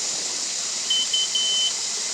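A faint, thin high-pitched beeping from a Mukuta 9 Plus electric scooter horn, three short tones in quick succession over a steady hiss, sounding more like a mosquito whine than a horn.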